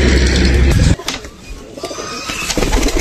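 Several pigeons coo close by, with loud low cooing at the start. Softer coos and flutters follow, with occasional chirps over faint background noise.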